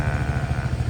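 A Yamaha Fazzio scooter engine with a Smart Motor Generator starter runs smoothly and close by, giving a steady low pulsing hum for the full second with no talk.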